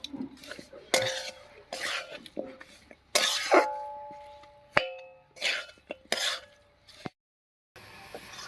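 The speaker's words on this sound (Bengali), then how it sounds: "এবার আস্তে আস্তে নাড়িয়ে চাড়িয়ে মিশিয়ে নেব" Jaggery and grated coconut being stirred in a wok for bhapa pitha, with intermittent metallic scrapes and clanks of the spatula against the pan, close and uneven, separated by quiet gaps, plus a faint sizzle and a cough.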